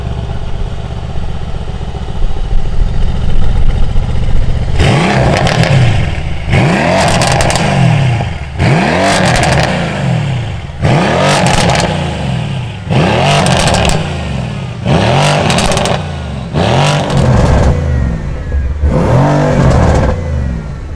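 A powerful Mercedes-AMG C63 S engine with a Stage 3 tune revs hard in repeated bursts, about eight sharp throttle blips with brief drops between them, loud and close.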